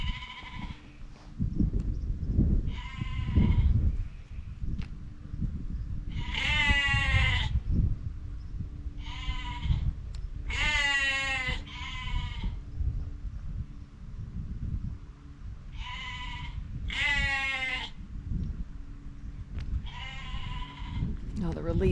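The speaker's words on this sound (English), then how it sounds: "The black ewe calling the white one." Several loud, wavering bleats from a black ewe calling another sheep, repeated at irregular intervals over steady wind and low rumbling background noise outdoors on a farm.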